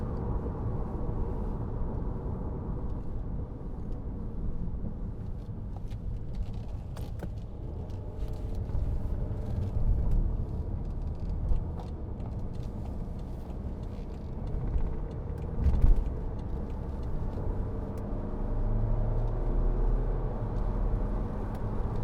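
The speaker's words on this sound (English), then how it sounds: "change this into, that's comfort, into sport there, and you see the revs jump and the car gets more responsive" BMW 520d M Sport 2.0 diesel saloon engine running steadily from inside the cabin during a test drive, a low continuous rumble with a brief swell around the switch to sport mode, no talk.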